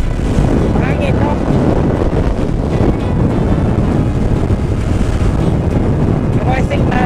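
Heavy wind buffeting the microphone while riding in a group fun bike ride, a steady loud roar filling the whole clip with no spoken words.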